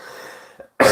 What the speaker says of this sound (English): I told you I've got a bit of a cough.